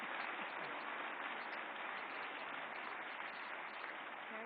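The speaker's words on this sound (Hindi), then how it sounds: "जोरदार तालियों से स्वागत करें वहीदा जी का." Steady, dense applause from the audience at a formal award ceremony where Waheeda Rehman receives the Dadasaheb Phalke Award, sustained at an even level throughout, fairly distant and soft, with no voices over it.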